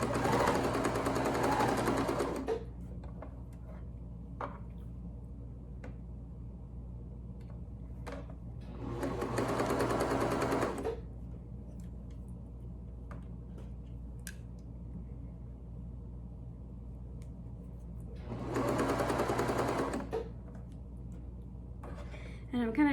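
A sewing machine stitches a knit fabric neck gaiter in three bursts of rapid, buzzing needle runs, each several seconds long, separated by quieter stretches where a person talks over a low background hum.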